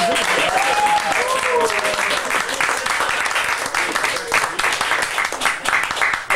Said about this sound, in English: And please give a round of applause to Carl for working so hard